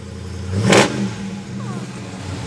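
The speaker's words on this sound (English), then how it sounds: "Fires right up. Runs great. Oh, sounds so good." A car at a Chicago auto auction starts and revs once, a quick loud roar that peaks and fades back to a steady idle nearby.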